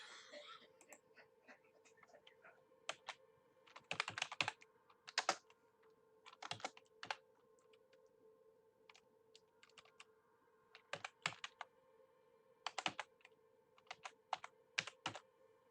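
Typing on a computer keyboard in irregular bursts of crisp key clicks separated by quiet pauses, close and fairly clear, with no speech.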